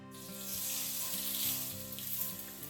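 A ribeye steak sears in a heavy, thick-based pan, giving a steady, hissing sizzle at low-to-moderate loudness with faint periodic low knocks underneath and no speech.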